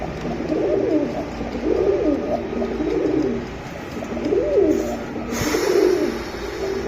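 Pigeons, silver Giribaz and Pakistani breeds kept for sale, coo repeatedly in low rolling phrases, four or five swelling calls close by over steady background noise, with no talk.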